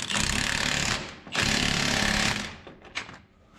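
Milwaukee impact gun driving bolts on an offroad wrecker's front bumper, heard as two loud, close hammering bursts of about a second each, then a brief rattle as the tool winds down.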